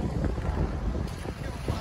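Strong waves slapping against a small boat at sea, a continuous churning wash with heavy wind buffeting the microphone, loud and close throughout.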